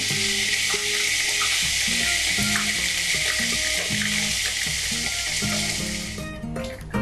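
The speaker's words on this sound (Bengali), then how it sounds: "আমি গোটা গরম মশলা দিচ্ছি এর মধ্যে, একটু নাড়িয়ে নিয়ে এর মধ্যে প্রথমে আমি আদা পেস্ট" Ginger paste with whole garam masala sizzles loudly in hot oil, a steady dense frying hiss with intermittent stirring scrapes, easing slightly near the end.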